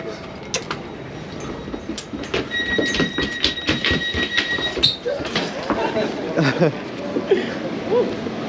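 Busy Swiss train station noise with rumbling, clanks and a sliding door, a steady high-pitched beeping tone as the train is about to leave, and people talking nearby throughout.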